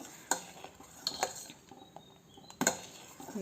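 A spoon stirs coffee pudding mixture in a pan without pause, making a few sharp metallic clinks and scrapes over a quiet, faint background.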